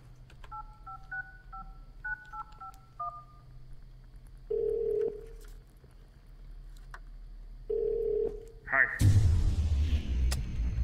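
A telephone inside the house in the Christmas horror game Krampus Is Home sounds as a quick run of keypad tones, then two separate buzzing rings, and the clip ends in a sudden loud burst of noise.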